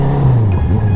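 A motorcycle engine fitted with an ECU tune and an Akrapovic muffler, revving loudly up close in one short, steady burst with a falling pitch.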